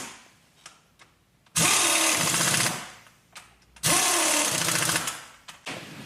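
A ratchet tightens thread-locked flywheel bolts on a MK6 Ford Fiesta track car in two loud, close bursts of about a second each, separated by quieter pauses.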